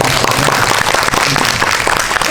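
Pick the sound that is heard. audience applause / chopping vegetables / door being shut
audience applause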